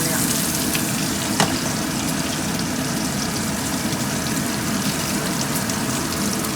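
Eggplant sizzles and fries steadily in a hot pan alongside cooked meat, a dense continuous crackle close by with a faint stirring clatter and no pauses.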